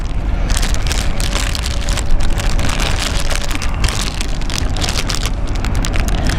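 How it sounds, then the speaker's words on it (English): Steady rain pattering outdoors on a Zurich tour, dense crackling drops falling close by on a covered equipment surface, continuous throughout with no speech. "We've got a bit of rain, so I'm going to do a bit of cover again"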